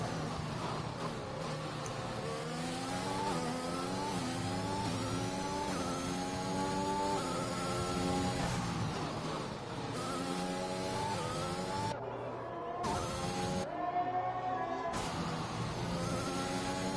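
A Jordan F1 car in a racing video game screams through a flying lap at the Spanish Grand Prix, its engine note repeatedly climbing through the gears and dropping on brief lifts, loud and continuous without voices.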